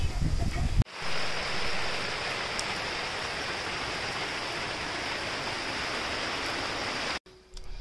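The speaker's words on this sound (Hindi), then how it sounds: "बारिश स्टार्ट है" Steady, loud broadband rain roars continuously for several seconds, thick and hissing like a downpour driven by strong wind, cutting off abruptly near the end.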